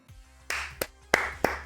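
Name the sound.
hand clapping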